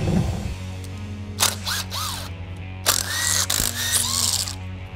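A hand ratchet works on the bolts of a truck's differential cover in short clicking bursts, with a steady mechanical hum underneath and no talking.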